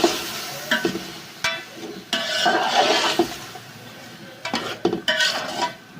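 Potato, peas and carrot are stirred and sautéed in a pan for pulao, with a steady sizzle under repeated scraping and clinking strokes of a spoon against the pan, close and fairly loud.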